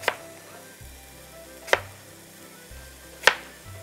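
Three sharp knife chops land on a cutting board, spaced about a second and a half apart, as cabbage and Granny Smith apples are cut for German red cabbage. A low, steady hum sits underneath.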